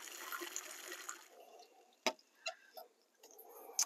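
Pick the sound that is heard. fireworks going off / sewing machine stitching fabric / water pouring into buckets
water pouring into buckets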